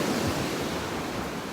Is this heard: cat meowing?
no